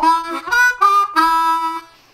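Harmonica playing the second lick of a song, a few quick bright notes followed by a longer held tone that fades out, played up close and alone.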